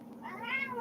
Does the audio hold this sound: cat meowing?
yes